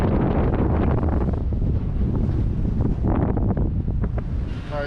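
Strong 22-knot wind buffets the microphone aboard a sailboat at sea near the coast, with a constant loud roar and rushing water beneath.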